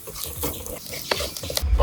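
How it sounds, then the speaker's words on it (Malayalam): Chili powder is stirred around a cooking pan with a spoon, making a short run of soft scraping and rubbing close by, with a slightly louder scrape near the end. "ഒരു ടീസ്പൂണ് മുളക് പൊടി ഒന്ന് ഇളക്കി കൊടുക്കുക"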